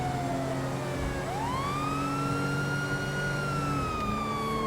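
A loud emergency siren in the video game GTA 5 wails steadily, its pitch sweeping up and holding, with a low engine hum underneath and no voices.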